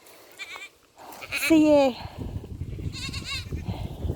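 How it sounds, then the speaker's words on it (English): A goat bleats loudly and close for about half a second, a wavering cry at the edge of her paddock as she tries to get out, then a person starts talking over low farmyard noise. "goat trying to escape from her paddock because she's going, Mum, where's my lunch? Where's my dinner?"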